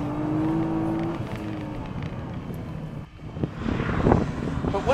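A Nissan GT-R accelerates hard, its engine rising in a loud, rough roar heard from inside the car, swelling again toward the end with a surge of intake and exhaust noise.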